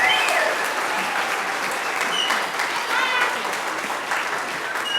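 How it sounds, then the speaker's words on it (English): Families and students at an elementary school fifth-grade graduation applaud award winners, a steady, even wash of many hands clapping throughout, with faint voices mixed in. "So a round of applause once again to all of our winners."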